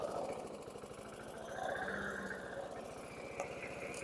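A 2006 Troy-Bilt front-wheel-drive self-propelled lawn mower engine runs steadily close by, its rhythmic chugging hum surging and sagging in RPM over about four seconds, with no voices.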